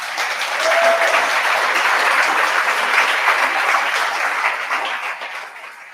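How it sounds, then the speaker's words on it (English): Audience applause at a farm stewardship harvest celebration, a full room clapping steadily for several seconds before fading near the end. "Let's give a round of applause for Ed, caucus co-chair Christine Johnson, a"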